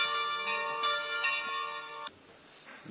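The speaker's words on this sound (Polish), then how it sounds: "Na niedzielną Eucharystię mieszkańców zwołuje dzwon" A church bell in a poor African parish rings to call residents to Sunday Mass, its ringing tones struck in an irregular rhythm with long sustained overtones, fairly close, then cutting off abruptly to quiet ambience.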